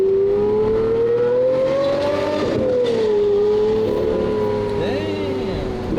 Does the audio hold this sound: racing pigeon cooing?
no